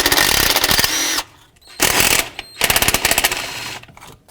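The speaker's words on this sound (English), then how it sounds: "So remove these 2 10mm bolts." A power tool removes two 10mm bolts holding a wiring harness during a starter replacement on a 2001-07 Toyota Sequoia. Loud, close bursts of whirring and rattling run about a second each, separated by short pauses.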